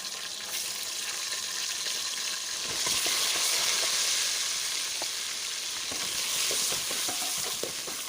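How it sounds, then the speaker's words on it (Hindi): Bone-in mutton frying in hot oil with garlic and ginger paste, a steady loud sizzle that grows when the meat is stirred, with scraping and clinks of a spoon against the pan and no speech. "इसको हम लहसुन के साथ अच्छी तरह से भून लेंगे।"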